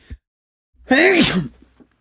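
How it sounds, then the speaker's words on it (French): One loud, drawn-out sneeze with a rising vocal wind-up, heard up close after a short breath and followed by quiet. "Je vais éternuer."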